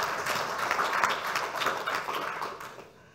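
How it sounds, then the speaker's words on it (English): An audience at a conference event gives a short round of clapping. The dense patter holds steady for a couple of seconds and then fades away. "Please give a round of applause to Nika."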